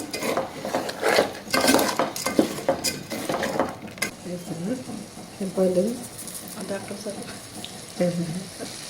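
Basmati rice pulao with vegetables being stirred in a pot, a series of scraping, clinking spoon strokes against the metal, close and moderately loud, with some faint kitchen sounds beneath.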